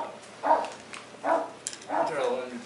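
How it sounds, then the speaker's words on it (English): Australian Shepherd dogs outdoors bark three times in short, spaced bursts, somewhat muffled, with some speech in the background. "The big dogs are outside, so we can hear them barking."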